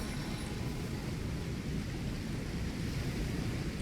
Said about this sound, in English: And now we can set up a storm.